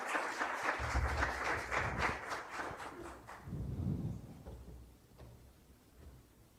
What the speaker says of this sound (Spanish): Entonces le damos un fuerte aplauso para su inicio de su ponencia.